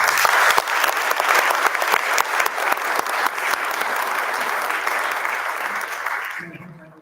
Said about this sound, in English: A round of applause for our two candidates.